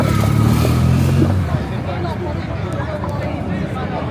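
Motorbike and car engines in Lisbon street traffic, a loud nearby engine drone that eases after a second or so into a lower rumble of passing vehicles, with voices talking alongside.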